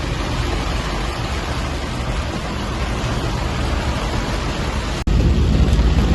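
Rain falling as an even, continuous hiss throughout, loud and close, with no talk.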